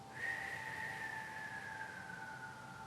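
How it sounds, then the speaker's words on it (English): A steady, thin whistle held for about three seconds, sliding slightly downward in pitch as a breath is pushed out during Kundalini yoga breathing, over faint background hiss. "Inhale through your nose, exhale as a whistle."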